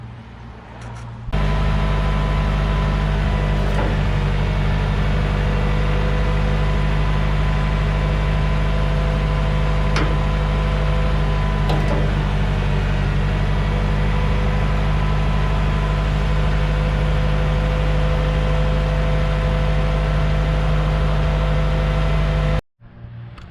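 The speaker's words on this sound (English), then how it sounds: "I'll show you how this mighty Ford 5000 hoists this thing up in the air without a problem" A Ford 5000 tractor runs at a steady, loud diesel drone while hoisting a rotary cutter of over 1,000 pounds, the constant low engine note close and unchanging until it cuts off near the end.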